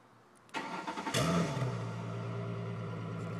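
A Ford Mustang on 22-inch rims starts by remote starter: a brief crank, then the engine catches with a loud surge that settles into a steady, rumbling idle, close by and without talk.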